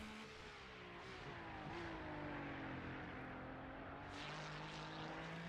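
A sports race car in a sim racing game at Sebring International Raceway drones past with a steady engine whine that slowly rises and falls in pitch, moderately distant and continuous, with no talking.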